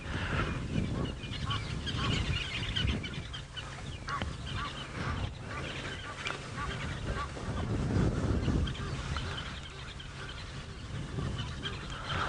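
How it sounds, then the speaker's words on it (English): Egyptian geese honking repeatedly at a distance over steady wind and outdoor rumble, calls rising and falling in bursts, at a dam on a sunrise safari drive. "We've got some interesting activity with the Egyptian geese over at our sort of 1 o'clock, 2 o'clock."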